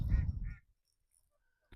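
Ducks on a freshwater lake: a short burst of loud, nasal quacking close by, followed by near silence and a brief faint knock.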